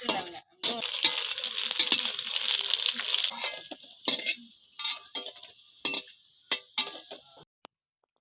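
Steady hiss of puris (phuchka) frying in hot oil, with occasional clinks and scrapes of a utensil against the pan that grow sparser toward the end.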